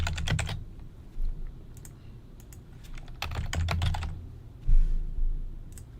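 Typing on a computer keyboard while editing title text in vMix software: scattered bursts of close, crisp key clicks come in small clusters with short pauses between them.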